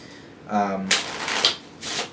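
A deck of playing cards is shuffled during a magic trick, a few brief riffling and snapping bursts close by, following a short spoken voice.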